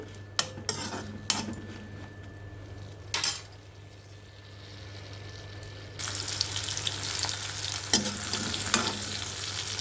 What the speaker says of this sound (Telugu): పచ్చిమిర్చి వేగిపోయినాయండి